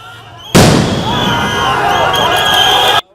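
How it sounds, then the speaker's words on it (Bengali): A sudden loud blast from a police sound grenade at a street protest, followed by a sustained roaring, crackling wash of noise and crowd commotion lasting a few seconds before cutting off. "পরীক্ষার্থীদের উপর জলকামান ও সাউন্ড গ্রেনেড নিক্ষেপ করে পুলিশ"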